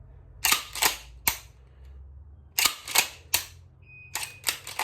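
A shotgun action is racked in close, loud clacks, sharp mechanical bursts in quick pairs separated by short pauses, heard alone without talk.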